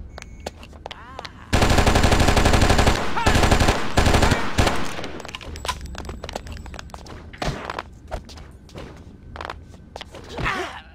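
An SMG in the video game Oni fires a loud, sustained automatic burst for a few seconds. Scattered single shots, thumps and impacts follow at a lower level.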